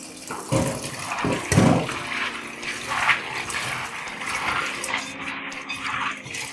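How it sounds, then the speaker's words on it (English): Tigernuts are rinsed thoroughly in water for juice, with close, uneven splashing and sloshing and a few louder bursts of swirling water. "the next thing we are going to do is to rinse our Tigernut thoroughly"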